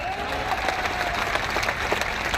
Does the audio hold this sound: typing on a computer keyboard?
no